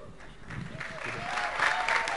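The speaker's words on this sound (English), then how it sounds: "I can hear the clapping." Audience clapping indoors at a family gathering, a soft patter that swells steadily louder over a couple of seconds, with faint voices mixed in.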